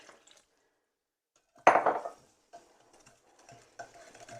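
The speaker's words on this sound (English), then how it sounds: "I'm just going to use this awesome little Danish whisk to mix that together first." A small Danish whisk stirs vegan waffle batter made from Annie's organic baking mix in a bowl. One sudden wet, scraping burst comes first, followed by lighter intermittent swishes and taps, close up.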